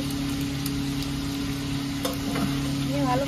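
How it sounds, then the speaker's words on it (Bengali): Three onions fry in white oil in a pan, a steady close sizzle that holds evenly throughout, with a few light stirring scrapes near the end. "এবার পেঁয়াজটা ভেজে নেব একটু লাল লাল করে।"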